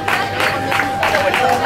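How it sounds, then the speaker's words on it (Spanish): Crowd applauding and cheering for the women's overall category podium at the XXIV Marbella triathlon in San Pedro Alcántara, a steady, dense burst of clapping and voices throughout. "un aplauso fuerte a la categoría absoluta femenina del"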